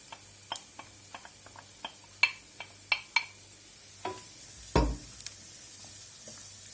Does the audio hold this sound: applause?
no